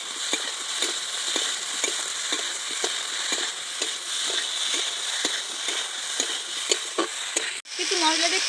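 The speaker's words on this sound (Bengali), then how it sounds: "আরও কিছুক্ষণ খুব ভালো করে আমি কষিয়ে নেব।" Spices with turmeric, salt and ginger paste sautéing in a pan, a steady sizzle broken by regular stirring scrapes of a spoon, with a brief pause near the end before the frying resumes.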